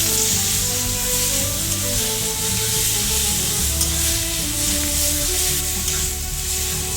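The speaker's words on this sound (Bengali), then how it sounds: "পেঁয়াজটা ভাজা হয়ে গেছে, আমি এখন সেদ্ধ করা পেঁপেটা দিয়ে দেব।" Boiled papaya tipped into a pan of fried onions crackles into a steady, loud sizzle that continues without pause, with faint stirring beneath.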